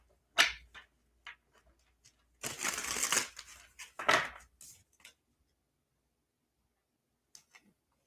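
A deck of cards is shuffled close up in bursts: quick riffling flutters and snaps, a longer riffle in the middle, then scattered light taps and silence.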